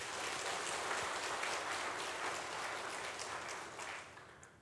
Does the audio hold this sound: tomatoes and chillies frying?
no